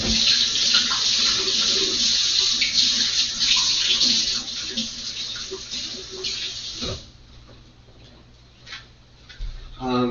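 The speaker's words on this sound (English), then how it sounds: "Alright, washing them off now." Running tap water pours steadily over leeks being washed in a sink, loud and continuous before easing into quieter splashes and dribbles.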